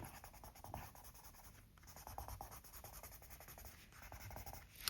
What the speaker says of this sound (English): Sorry for the scratching noises that the pencils are making.